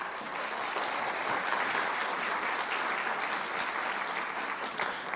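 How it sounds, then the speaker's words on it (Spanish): An audience at a formal ceremony applauds an award recipient with sustained, dense clapping at a steady level throughout, with no speech over it. "Un aplauso para ella."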